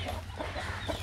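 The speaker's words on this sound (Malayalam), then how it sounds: "ഇതാരാ ഒരു വലുത് പോരൻ പോര കോഴി" Fighting rooster, a large game fowl, giving a few short, soft clucks over a low steady hum in the background.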